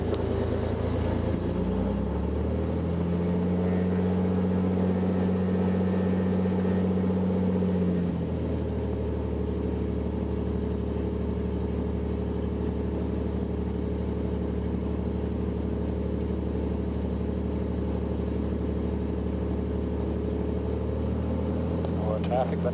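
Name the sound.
Beechcraft Bonanza airplane engine during takeoff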